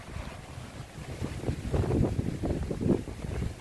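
Strong wind gusting hard during a storm of heavy winds, roaring and buffeting the microphone in surging waves that build louder toward the middle, with no talking.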